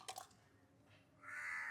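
A crow caws faintly in the distance, giving a short harsh call or two against quiet outdoor background noise.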